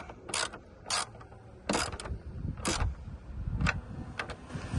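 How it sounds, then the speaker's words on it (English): A ratchet tightening the bolts on a car's headlight bracket, several short bursts of rapid clicking spaced about a second apart, close and distinct over faint background noise. "So I'm gonna go ahead and tighten down both sides."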